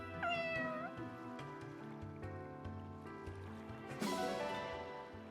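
A Solmic cat in the video game Fire Emblem Engage meows a few times over gentle flowing water and soft background game music, with a bright chime near the end.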